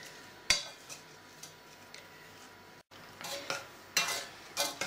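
A spoon scrapes and clinks around a small saucepan of sauce brought to the boil over high heat, in short, irregular strokes, with a soft bubbling sizzle underneath.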